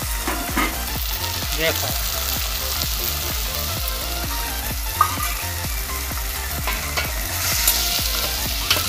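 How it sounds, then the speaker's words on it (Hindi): Coriander and turmeric powder frying in hot oil with salt, stirred steadily in the pan, giving a continuous close sizzle with rhythmic scraping strokes; a voice speaks briefly. "ऐसे ही तेल में इसको पकाने हैं."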